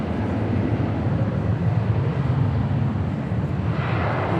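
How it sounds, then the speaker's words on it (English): Lufthansa heavy jet passing near DFW Airport, a continuous low, rumbling engine roar at moderate loudness, steady throughout with a slight rise in hiss near the end, no speech. "we got another heavy headed our way, and it is Lufthansa today"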